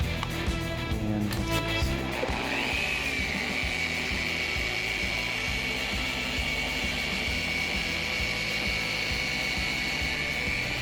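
A car polisher runs at speed 3 on the paint of a 2014 Toyota Tundra, starting with a brief rough clatter and then settling into a steady, close, high-pitched whine with a low motor hum underneath.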